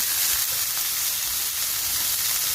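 String beans and bitter gourd frying in a pan, giving a steady close sizzle with a soft crackle that holds evenly throughout, with no talking.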